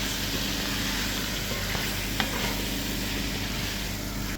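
Food frying in a pan after turmeric and curry powder are added gives a steady, dense sizzle, with a few faint utensil clicks as it is stirred and no one speaking.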